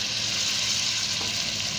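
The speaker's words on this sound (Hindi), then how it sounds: "लहसुन अदरक फ्राई हो जाएंगे तो मैं इसमें आलू डाल दूंगी अब" Garlic and ginger fry in hot oil in a pan, a short, even, close sizzling hiss with no voices.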